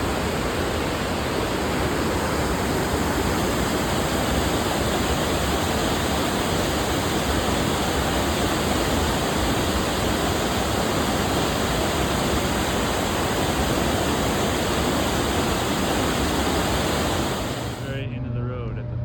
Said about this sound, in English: We got this raging cascading waterfall